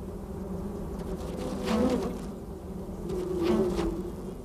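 Ground-nesting bees swarm over a densely packed nest site in the Sonoran Desert, their steady buzzing drone filling the air and swelling louder twice as insects pass close.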